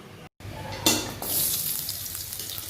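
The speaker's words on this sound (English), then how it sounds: "So I'm dropping the potatoes in." Raw potatoes tumble into a hot pan of kurma base, giving a sharp clatter followed by a steady, moderately loud frying hiss that carries on alone.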